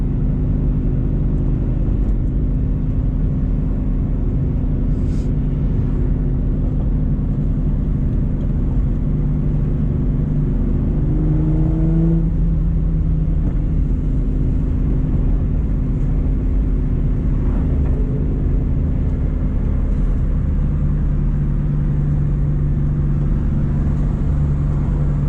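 A 2JZ-swapped Mazda RX-8 rumbles with a steady low engine drone from inside the car while driving, loud and constant, with a brief rise in pitch midway.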